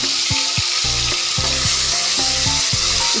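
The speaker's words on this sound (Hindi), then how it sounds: "इसको एक हम कुछ सेकंड तक इसे भूनेंगे, ताकि हमारा इसका जो कच्चापन है लहसुन अदरक का वो निकल जाए" Garlic ginger paste frying in a pan, a loud steady sizzle that fills the whole stretch, with intermittent stirring knocks and scrapes of a spoon against the metal.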